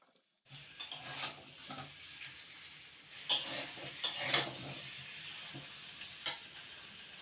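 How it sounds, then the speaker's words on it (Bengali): Potatoes fry in a pan for chicken biryani, a quiet steady sizzle that begins after a brief silence. Intermittent stirring scrapes and sharp clicks of a utensil against the pan sound close by, with no talking. "এদিকে দেখো আলুটা ভেজে নিচ্ছি আমি।"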